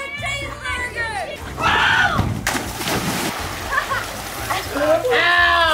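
Water sprays and splashes in a backyard waterpark in sudden loud bursts, with excited children shouting and squealing throughout.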